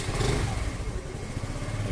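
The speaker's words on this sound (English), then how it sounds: "Turn on the ignition. So the vehicle is starting properly" A Honda Activa scooter engine running just after ignition, a steady close puttering idle with slight revving, no talking.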